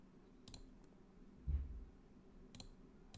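Two sharp, quiet mouse clicks, about two seconds apart, come from a computer used for drawing in Illustrator, with a soft low thump between them in a quiet room.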